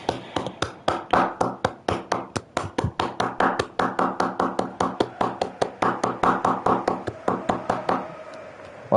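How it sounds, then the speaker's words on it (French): A single streamer claps steadily and close to the microphone during a live Anderlecht–Liverpool match watch-along, giving about thirty-five sharp, evenly spaced claps over eight seconds before stopping, with no talking. "Voilà, une petite session d'applaudissements."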